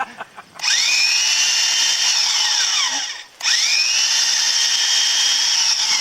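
A corded power drill bores a pilot hole in wood during a house barn restoration, whining loudly and steadily in two long runs separated by a brief pause, each start rising in pitch as the motor spins up.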